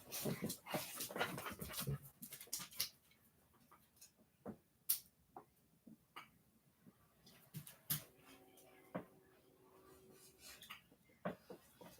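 A dog whimpers and pants nearby in a quiet indoor room, soft breathy panting mixed with brief high whines and scattered small clicks and knocks, fairly faint overall.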